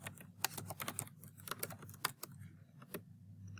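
Quick bursts of clicks from a computer keyboard being typed on, irregular sharp taps close by with short pauses between runs over a faint hum, no voices.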